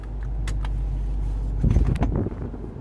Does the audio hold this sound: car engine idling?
yes